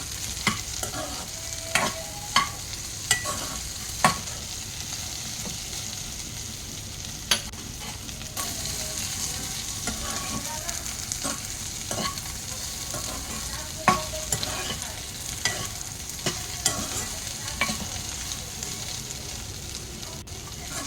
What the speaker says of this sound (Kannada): ಬೆಂಡೆಕಾಯಿಯನ್ನು ಅದಕ್ಕೆ ಹಾಕಿ ಫ್ರೈ ಮಾಡ್ತಾ ಇದ್ದೇನೆ. ಇದು ಚೆನ್ನಾಗಿ ಫ್ರೈ ಆಗಬೇಕು.